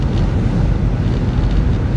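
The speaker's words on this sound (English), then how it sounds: "It's also very windy." Strong outdoor wind during a December storm roars and buffets the microphone in a continuous loud rush, with no other sounds standing out.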